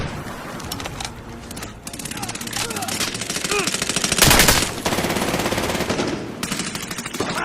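Rapid automatic gunfire from Medal of Honor Warfighter multiplayer, bursts of machine-gun fire with a louder fusillade near the middle, dense and continuous against game ambience and faint voices.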